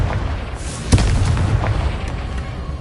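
Explosion spell going off in the Hogwarts Legacy video game: a single heavy boom near the start, then a low rumbling tail that fades out under a steady game ambience.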